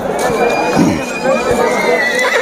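At the Yeola horse market during Dussehra, a horse lets out a shrill, wavering whinny over a busy outdoor murmur of people, close and fairly loud.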